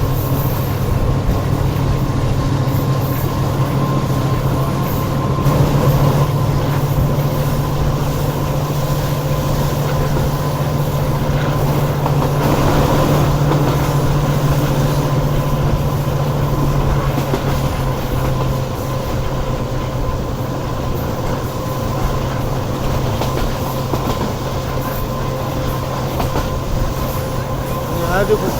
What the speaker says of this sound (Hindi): इंजन की आवाज़ आप सुन सकते हैं इस वक्त